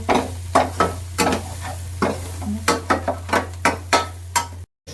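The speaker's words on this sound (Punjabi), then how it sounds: "ਇਹਨੇ ਆਪਣਾ ਮਸਾਲਾ ਭੁੰਨਿਆ ਜਾਂਦਾ" Masala and onions roasting in a pan, stirred with a spatula in a series of rhythmic scraping strokes over a steady low sizzle, close and fairly loud, with no talk.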